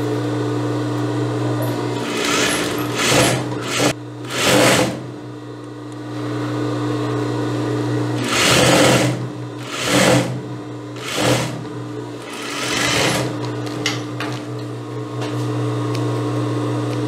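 An overlock serger stitches the hem of a midi circle skirt in several short bursts, each a few seconds long, with pauses between them, close and fairly loud over a steady low hum.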